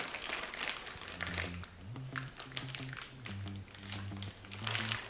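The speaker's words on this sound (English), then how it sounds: "Zip it up, get as much air out as we can." Plastic zipper bag holding a six-inch-wide slab of pork belly crinkles and rustles close by as it is pressed and sealed shut, with soft taps and crunches in irregular bursts.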